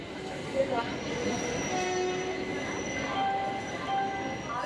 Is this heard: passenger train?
yes